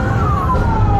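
A wailing ambulance siren sweeps slowly downward in pitch, loud and close over low traffic rumble during a bike ride.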